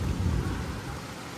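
Steady rain pours down with a deep low rumble of thunder rolling underneath, loud and continuous, no voices.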